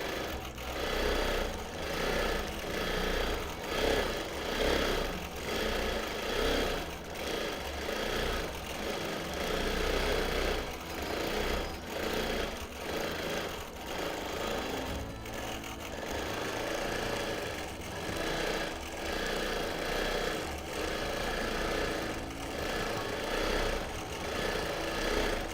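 A longarm quilting machine stitching a six-sided Christmas tree skirt gives a steady, close mechanical hum with a fast, even rhythmic chatter that runs without a break for the whole stretch.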